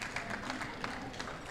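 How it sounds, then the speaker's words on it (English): Continuous applause from a conference audience for a minister at a session on green hydrogen deployment. It is a steady, fairly dense wash of clapping that stays level throughout. "Please give an applause for the Minister"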